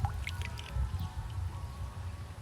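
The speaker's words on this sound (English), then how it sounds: "I shake it in water." A toy car is shaken in water, producing low sloshing and gurgling swirls with a few small splashes, close and fairly quiet, with no talking.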